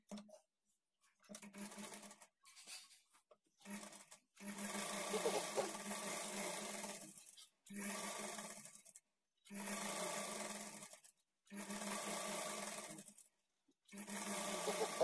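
A sewing machine stitching the folded half-inch edge of a blouse, running in repeated bursts of a few seconds with short pauses between, close and fairly quiet, with no talking.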